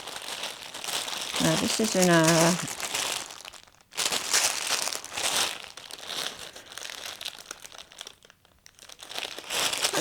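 A paper shopping bag that looks like plastic crinkles and rustles loudly close to the microphone in bursts, with a person talking over and between the crackling handling noise.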